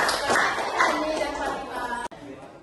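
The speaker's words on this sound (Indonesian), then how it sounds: "Kita beri tepuk tangan buat teman-teman." Classroom audience clapping for fellow participants at a teachers' jamboree, a dense burst of hand claps lasting about two seconds with a faint voice underneath, then cutting off abruptly.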